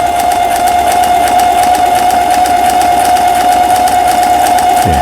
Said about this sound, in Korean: 옷감의 가장자리가 박음질이 될 수 있도록 해주는 오버록 바느질이 되겠습니다